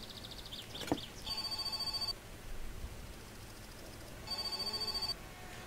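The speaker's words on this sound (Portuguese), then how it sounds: "Opa, telefone tocando." A telephone rings in the video game My Summer Car, two electronic bell bursts each lasting under a second, separated by a pause, clear over a low background hum.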